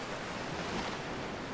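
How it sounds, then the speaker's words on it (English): Water rushes in through opened sluice gates in the video game The Unfinished Swan, a steady, soft, broad roar like surf, with no voices. "And water comes in."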